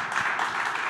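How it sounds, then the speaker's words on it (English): An audience applauds a panel of speakers, a short burst of steady clapping and cheering filling the room without speech. "Can we give a round of applause for our panelists?"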